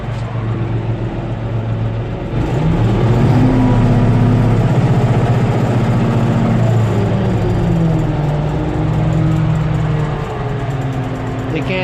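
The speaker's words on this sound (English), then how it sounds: "You can just hear the turbo." Belarus 1770 tractor engine running with a turbo whine, a steady loud drone with a rising and falling tone over the low rumble, close by, with a thud near the start.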